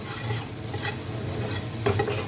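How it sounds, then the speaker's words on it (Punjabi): Salt, Kashmiri chilli and garam masala being stirred into a mixture in a pan, a continuous close scraping stir over a low sizzle, with a louder scrape at the end. "ਹੁਣ ਆਪਾਂ ਇਹਨਾਂ ਨੂੰ ਮਿਕਸ ਕਰ ਦਿੰਨੇ ਆ"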